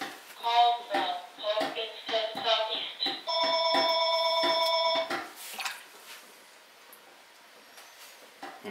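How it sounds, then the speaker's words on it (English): A telephone rings in a pottery studio during work at the wheel on a clay garlic keeper pot: a steady, loud electronic trill of about two seconds follows a man's speech, then fades to quiet room tone. "Oh, the phone is ringing now."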